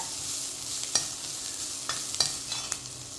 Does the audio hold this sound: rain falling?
no